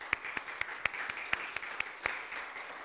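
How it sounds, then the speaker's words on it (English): A church congregation claps hands to the Lord during a Sunday service, steady rhythmic claps about four per second, moderately distant and even, with no speech over them. "Let's give a hand clap to the Lord,"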